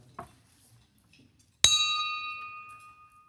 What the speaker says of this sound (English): begin our meeting with the ringing of the bell